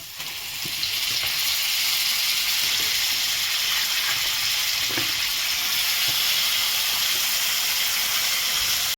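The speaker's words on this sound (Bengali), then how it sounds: "মশলাটা ভাজানো হয়ে গেছে, এখন আমি চিকেনটা দেবো।" Chicken hits hot fried spices with chilli powder, turmeric and salt in a pan, bursting into a loud, steady sizzle that swells after the first second and holds close and unbroken with faint stirring clicks.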